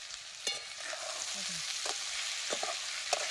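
Vegetables sizzle and roast in a pan over a wood-fired clay stove for a Bhogi mixed vegetable dish, a soft steady hiss broken by a few sharp scraping clicks of a spoon.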